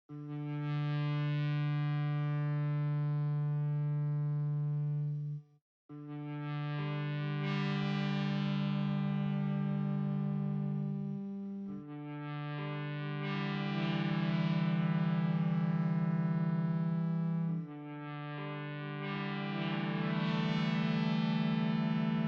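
Four long, sustained distorted tones through a Boss RE-202 Space Echo in long delay mode, each droning for several seconds with a smeared, echoing tail before the next note begins.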